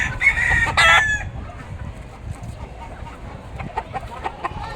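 A Texas gamecock chicken gives a short loud cluck and squawk up close, followed by softer scattered clucks and outdoor rustling.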